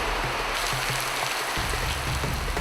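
Heavy storm rain pounds a corrugated tin roof in Venezuela, a dense, loud, continuous hiss and patter with low rumbling underneath, heard close and alone without talk.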